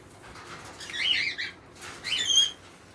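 A cockatiel flock in an indoor aviary gives two short bursts of wing flapping mixed with brief chirps and squawks, fairly quiet and nearby.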